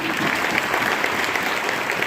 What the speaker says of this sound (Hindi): अल्हम्दुलिल्लाह ताली बजाइए उनकी